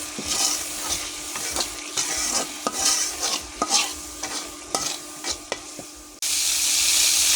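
Banana flower being stirred in a pan with turmeric, chili powder and salt, a spatula scraping and clicking in irregular strokes over a steady sizzle that surges louder near the end.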